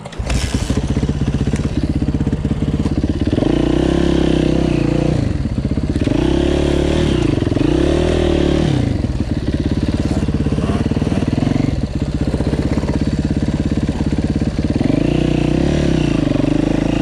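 A Yamaha motorcycle ridden off-road over heavy sandy terrain, its engine close and loud, rising and falling as the throttle is repeatedly opened and eased in surging revs, with occasional clatter underneath.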